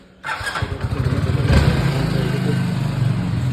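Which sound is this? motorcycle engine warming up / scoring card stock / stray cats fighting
motorcycle engine warming up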